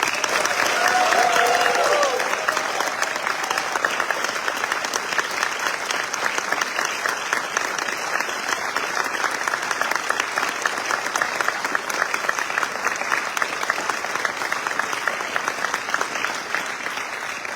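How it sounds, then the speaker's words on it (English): An audience at an army training graduation ceremony applauds the drill sergeants, a broad, sustained wash of clapping from a large crowd that holds steady throughout, with a brief voice at the very start. "Please join me in a round of applause for Senior Drill Sergeant Christopher Neverby, Drill Sergeant Elizabeth Thacker, and Drill Sergeant Lisa Guy"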